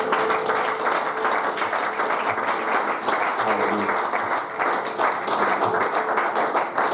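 A church congregation at an evening service applauds steadily, dense continuous clapping filling the room for several seconds, with voices faintly mixed in beneath.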